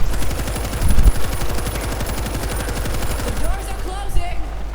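Rapid automatic gunfire in the zombie shooter World War Z, set in a desert level, a loud continuous stream of shots rattling throughout while a player talks excitedly over it.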